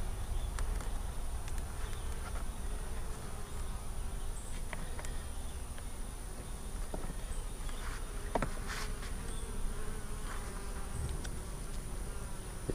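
Honeybees buzzing inside a top bar hive, a steady close-up drone of many insects filling the whole stretch, with faint light clicks and taps now and then.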